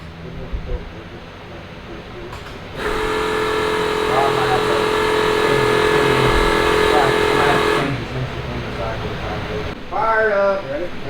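A 1500hp twin turbo street car engine fires up and runs loud and close with a sustained rough drone, dropping off near the end, with voices heard before and after.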